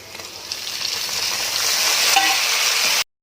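Tomatoes dropped into browned onions and chopped chilies frying in a pan give a steady, close, hissing sizzle that swells louder halfway through and holds until an abrupt stop, with no talking.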